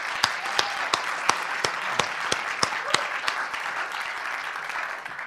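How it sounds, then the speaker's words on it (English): Audience at a poetry event in Qatar applauds the organizers, a steady mass of clapping with a few louder individual claps punctuating it, held at moderate volume for several seconds. "Can we all give a big round of applause to Ahmed Al Fadel and the team who organized"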